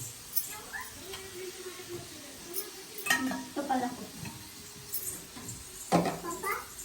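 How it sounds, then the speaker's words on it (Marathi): Turmeric and masala being sautéed in a pan at home, with soft sizzling and intermittent stirring scrapes, louder clattering strokes around the middle and end, while people talk nearby. "हळद टाकली आईने परतून घेतले मसाला टाकते"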